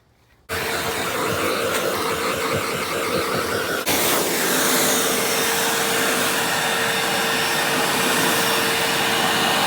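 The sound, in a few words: Tacklife wet vac running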